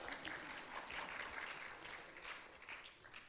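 Audience applause at a kindergarten enrollment meeting, steady and fairly faint throughout, with a soft murmur of voices underneath.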